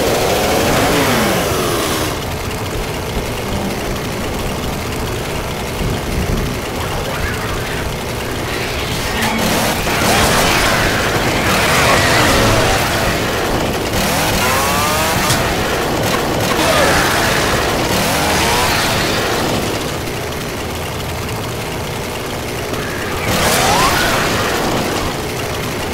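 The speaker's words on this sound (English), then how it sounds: "Chainsaw here." Chainsaw engine revving in the video game Left 4 Dead 2, a loud mid-pitched motor that surges and falls repeatedly over game combat noise, close and continuous throughout.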